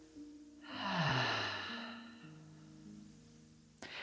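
A single slow, deep breath drawn in and let out through the back of the throat during a relaxing bedtime pelvic floor routine, soft and close, rising and fading over a few seconds with no talking.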